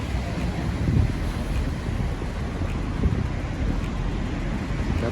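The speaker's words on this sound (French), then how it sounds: "Il y a beaucoup trop de vagues, c'est dangereux même." Rough Atlantic surf breaking at a marina entrance, with strong wind buffeting the microphone in a steady loud roar and occasional heavier wave surges, no voices.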